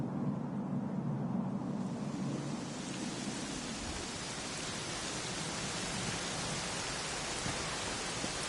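Steady rain hisses in a Dragon Quest XI S scene, a dense, even wash of falling drops with a low rumbling undertone, constant throughout with no voices.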